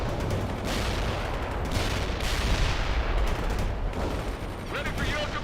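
Dense video-game battle gunfire and artillery in World in Conflict, a continuous rattle of shots and booms throughout, with voices faintly present under the barrage.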